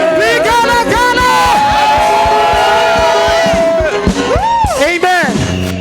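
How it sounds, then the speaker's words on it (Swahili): Ululation rises from a worship congregation during a praise session. Loud trilling voices sustain over crowd cheering and a steady rhythmic beat, with shouts near the end. "Vigelegele."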